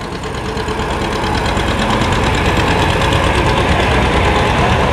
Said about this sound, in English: It may not look like much, but it does sound good, and with a standard muffler on it.